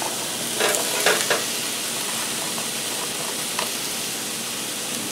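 Onions for pork chow mein stir-fry in a hot pan, giving a steady, broad hiss with a few soft scraping bursts near the start.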